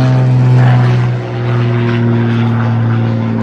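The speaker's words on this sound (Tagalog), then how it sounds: "Oh, ang ingay ng eroplano." A propeller airplane drones loudly overhead, a steady engine roar with strong low hum lasting throughout, outdoors in a backyard in Australia with no talking.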